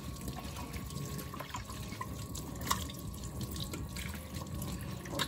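A tap runs steadily into a sink while hands are washed, a continuous close splashing rush with scattered drips, no voices over it.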